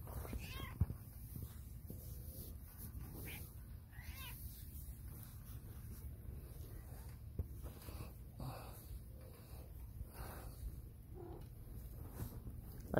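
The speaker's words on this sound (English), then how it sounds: "This is Esther, the swinging cat" A domestic cat meows a few times outdoors near a swing, its cries spread across the clip over a steady low background hum.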